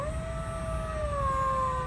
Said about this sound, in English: You push the button, then he howls.